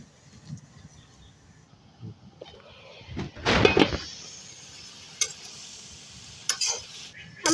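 Malabar spinach greens cooking in a pan with seeds, chili and salt, a soft sizzle under scraping and clattering stirs, one loud burst midway, then occasional clinks.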